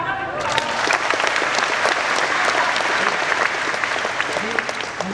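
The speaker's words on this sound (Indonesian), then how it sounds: "Kasih tepuk tangan." An audience breaks into steady, dense applause at a live on-stage talk show, the clapping holding at a constant level for several seconds without pause.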